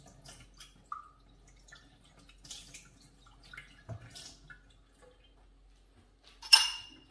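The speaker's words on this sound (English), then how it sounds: "Just remove the screen top and very quick rinse." Espresso machine screen top getting a quick rinse under running water, with scattered drips, splashes and light metallic clinks in a quiet room, ending in a short louder splash.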